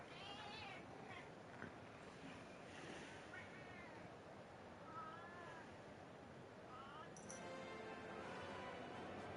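A cat meows repeatedly, its quiet, rising and falling cries spread across a constant low background noise.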